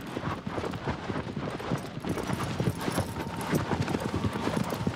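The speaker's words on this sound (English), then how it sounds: "Looks like if I hold triangle down, the horse continues to go." Horse hooves gallop in Shadow of the Colossus, a steady rapid clip-clop rhythm that fills the whole stretch at close range, with game ambience beneath and no speech.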